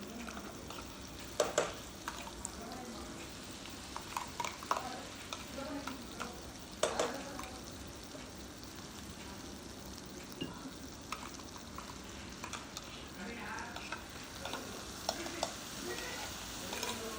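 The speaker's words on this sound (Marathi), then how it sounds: "चांगलं मिक्स करून घ्यायचं आहे आपल्याला वाटण हे आता" Spice paste is stirred into paneer masala in a pan, a low steady scraping and sizzle with intermittent spoon knocks, fairly faint, and no one talking.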